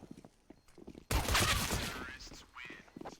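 An AK rifle fires a sudden loud burst in a Counter-Strike match, a dense rattle that fades over about a second, with a commentator talking around it.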